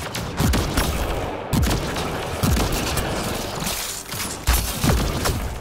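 Gunfire in Mass Effect: Andromeda combat, a series of sharp, loud shots landing about once a second amid a constant noisy background of battle.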